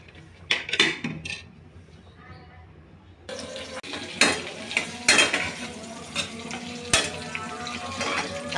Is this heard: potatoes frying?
yes